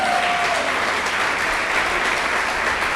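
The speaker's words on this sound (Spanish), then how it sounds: "¿Cuántas dan un aplauso?" A church congregation applauds together, a dense, steady wash of clapping that holds at full strength for the whole stretch with no talking.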